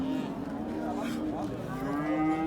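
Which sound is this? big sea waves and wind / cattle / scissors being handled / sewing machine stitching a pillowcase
cattle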